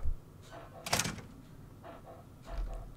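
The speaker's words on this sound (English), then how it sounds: "Door to shop." A shop door opens in the video game Fallout 3 with a bright mechanical clunk and rattle midway, followed by softer thuds and shuffling, moderately close and fairly quiet.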